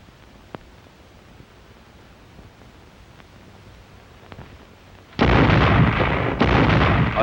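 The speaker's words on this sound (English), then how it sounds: "A synchronized barrage," A World War II artillery regiment fires a synchronized barrage: after several seconds of near-quiet with faint ticks, a sudden loud, sustained roar of gunfire bursts in and holds to the end.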